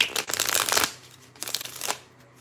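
A tarot deck being shuffled up close: two quick riffling bursts of crisp card flutter, the first longer, with a short pause between and no talking.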